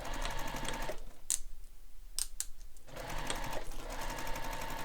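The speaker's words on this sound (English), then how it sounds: "And then sew it just like we did for the pocket on the flap." Close, steady whir of a sewing machine stitching a pocket onto a messenger bag flap, its rapid needle rhythm broken by a short pause in the middle before the stitching resumes.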